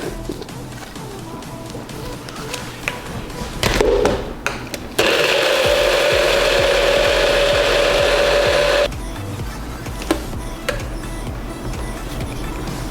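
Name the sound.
blender blending shake ingredients with almond milk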